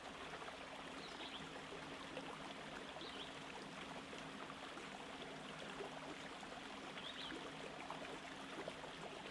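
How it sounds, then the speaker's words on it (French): River water cascades and trickles under a canopy of greenery, a soft, continuous rushing and babbling that stays faint and even, with no voices over it. "les bourdonnements de l'eau qui cascade, qui ruisselle."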